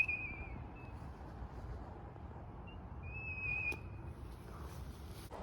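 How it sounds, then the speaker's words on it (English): A slingshot-launched LED rocket copter toy whistles in flight outdoors, giving a thin, high tone in a few short bursts over steady background noise. "they also make a really cool whistling sound"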